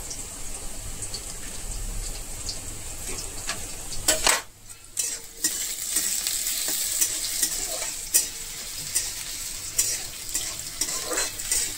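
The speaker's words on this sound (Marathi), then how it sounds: "बटाटे आपले शिजून घ्यायचे, त्याच्यामध्ये तेलामध्ये फ्राय करून घ्यायचे" Potatoes fry in hot oil with a steady close sizzle, broken by occasional scrapes and clinks of a spoon stirring in the pan and a brief drop in the hiss midway.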